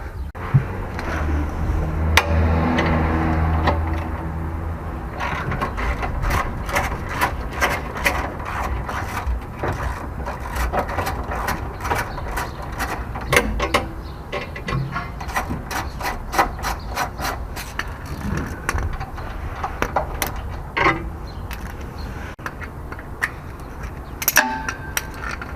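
A bolt being loosened on a Lexus during a steering system install: a long run of rapid ratchet clicks, interrupted by metallic clangs and tool handling, close up with no speech.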